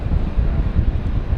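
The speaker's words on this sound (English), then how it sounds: "So, last flight of the day, heading out here. This is the Florence flight. This is City Flyer" A City Flyer passenger jet departs London City Airport on the Florence route, a steady low rumbling roar heard at a distance, muffled by wind buffeting the microphone, with no talk.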